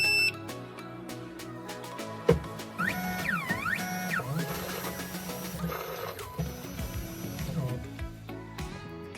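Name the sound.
Tank 2 Pro key cutting machine turned on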